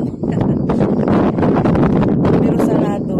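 Gusting wind buffets the microphone at the hilltop Carmelite monastery at Muhraqa in Israel, a loud rumbling roar with a voice speaking over it.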